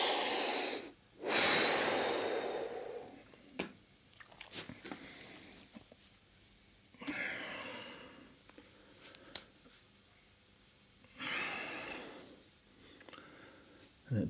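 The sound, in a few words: deep breathing while resting after exercise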